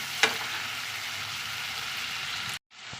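Food sizzles steadily in a pan while being stirred, with a single sharp clink near the start, then the sound cuts out briefly before the frying hiss resumes; the dish is hilsa fish head with gourd greens.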